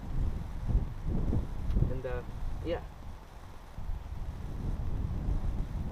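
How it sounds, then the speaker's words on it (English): Wind buffets the microphone outdoors in gusty low rumbles throughout, with someone speaking briefly over it. "Alright, it's kind of windy out."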